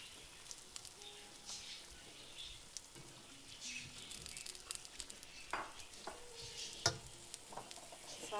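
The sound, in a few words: chicken and tomatoes being stirred and mixed in a pan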